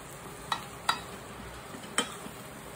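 Mushrooms for spaghetti stir in a frying pan under a soft, low hiss, broken by three sharp utensil clinks against the pan, close and fairly quiet.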